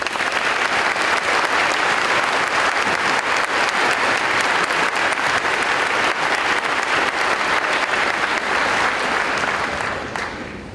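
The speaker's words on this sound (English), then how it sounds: "Please give our staff a round of applause." Sustained applause from a large audience at a 2025 high school graduation ceremony, honoring the staff; dense, steady clapping fills the whole stretch at full strength before tapering off at the very end.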